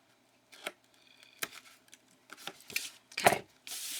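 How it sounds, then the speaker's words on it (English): A corner being cut off a paper card, heard as a few sharp, close snips and crisp paper rustles spaced irregularly, ending in a short burst of rubbing, with no voices. "As long as you just cut a piece of that corner out."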